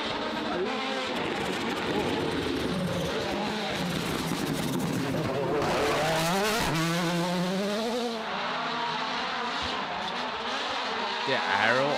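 A racing car engine howls and revs through quick gear changes, pitch climbing and dropping, with people talking over it.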